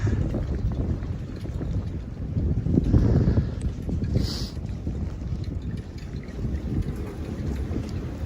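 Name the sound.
strong wind gusting outdoors in winter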